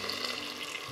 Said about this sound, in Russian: Заливаем чуть-чуть горячей водой